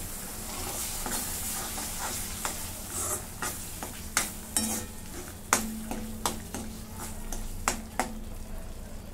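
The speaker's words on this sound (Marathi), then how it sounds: "थोडंसं पाणी टाकून घेते आणि मसाला चांगला भाजून घेते." Mutton curry masala with a splash of water is stir-fried in a pot, a soft continuous sizzle broken by repeated scraping strikes of a spoon against the metal.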